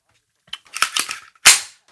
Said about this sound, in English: But definitely experience that when I'm shooting this Taurus TX22, man.